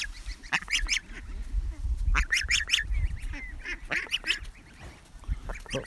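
A goose honks repeatedly at close range, loud nasal calls coming in bursts over rustling and scuffing sounds from people nearby.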